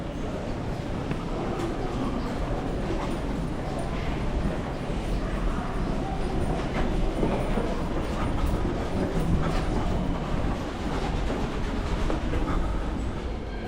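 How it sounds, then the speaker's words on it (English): An NYC subway L train rolls into the station with a steady, loud rumble and rhythmic clickety-clack of wheels over rail joints, broadband mechanical noise filling the platform throughout without letup. "the 4th and final train is pulling into the station. This is the L train"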